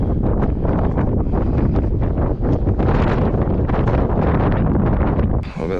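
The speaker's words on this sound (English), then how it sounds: "A little bit less windy down here." Strong gusts batter the microphone outside an abandoned underground missile silo, a loud, rough, buffeting rumble that roars almost without a break before easing briefly near the end.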